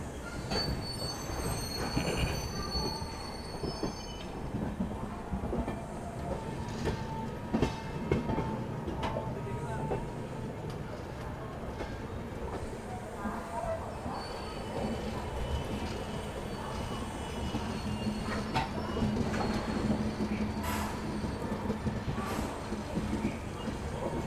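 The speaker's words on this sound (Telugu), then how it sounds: "సో మన ట్రైన్ డిపార్ట్ అయింది ప్లాట్ఫామ్ నెంబర్ 6 నుంచి." The Satavahana SF Express pulls out of platform 6 at a steady clip, rumbling and clattering close by, with wheels squealing at times and carriages swaying throughout; nobody speaks over the rolling noise.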